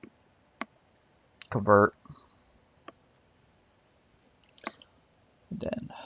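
Computer mouse clicks while working in airport design software, a handful of sharp, quiet clicks spaced a second or two apart, with a person talking between them.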